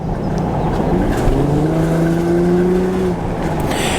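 An Infiniti FX35 AWD SUV engine revs up steadily while accelerating, its rising drone climbing in pitch for a few seconds, loud and close.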